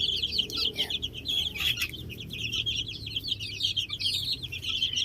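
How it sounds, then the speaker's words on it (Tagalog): Young chicks, including two-way cross birds, peep and chirp continuously in a close chorus of high, rapid calls over a low background murmur. "Ito yung alaga nating mga sisiw"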